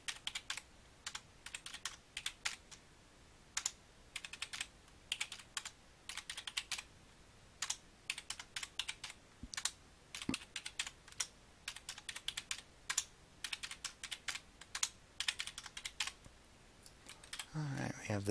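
Graphing calculator keypad pressed key by key as numbers are entered, giving a steady series of close, crisp plastic clicks with short pauses between bursts across the whole stretch.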